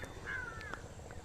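A single crow caws once at a distance, a faint drawn-out call over low outdoor background noise.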